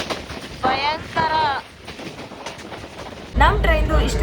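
The Mysuru–Renigunta superfast express, train 22135, runs at about 83–84 km/h with a steady low rumble and rushing wind roar, while someone talks over it in bursts.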